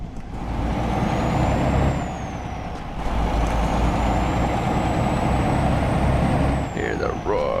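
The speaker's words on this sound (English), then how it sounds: "Hear the roar of the diesel." Diesel truck engine roaring steadily in a truck driving video game with a steering wheel controller, a loud continuous drone with a faint high whine rising and falling, alone without talk.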